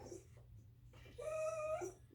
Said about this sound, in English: there's something under the bed that my dog wants